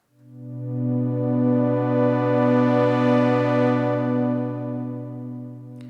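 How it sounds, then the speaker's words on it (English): An Oberheim TEO-5 synthesizer pad with a long attack plays a sustained triad chord that swells in slowly, holds warm and steady, then fades gently toward the end. "I've been making a pad sound here that has a long attack,"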